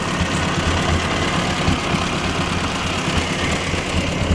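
A 1957 Ford 841 tractor engine running after carburetor work, a loud, close, steady rumble with an even low throb and no pauses.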